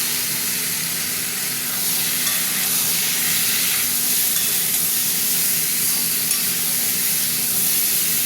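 Fish curry with potatoes is stirred in a frying pan, giving a steady loud sizzle and hiss with soft scraping movements throughout.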